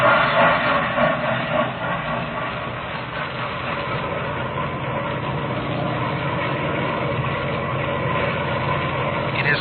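A train sound effect in an old-time radio drama: a loud, continuous rumbling and chugging with a muffled, narrow tone, heard alone without voices.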